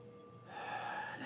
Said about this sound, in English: One last big inhale.